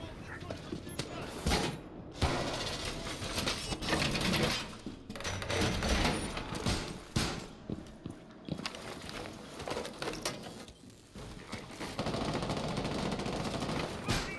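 Rapid bursts of automatic gunfire from a Rainbow Six Siege professional league match, loud and dense throughout, with a caster talking over the shooting.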